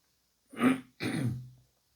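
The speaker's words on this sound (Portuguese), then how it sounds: "Começo com um pigarro da manhã" A single close morning throat clearing in two harsh bursts, a short rasp followed by a longer gravelly one, then silence.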